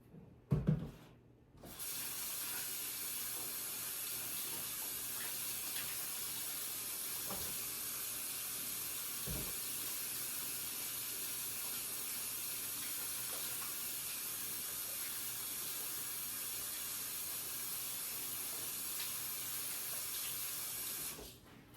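A kitchen tap runs steadily for about twenty seconds as hands are washed, a constant close hiss of water after a brief clatter at the start, with no talking.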